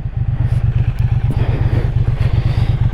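A 2021 Triumph Bonneville T100 twin idles loud and close, its engine pulsing in an even, rapid throb with a slight mechanical clatter and no voices over it.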